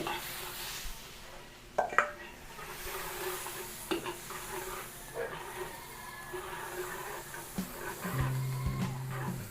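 Garlic sizzles in margarine in a pan and is stirred, a steady soft hiss with scraping clicks and clatter from the utensil, close and fairly quiet.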